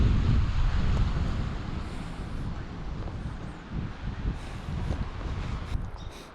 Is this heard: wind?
yes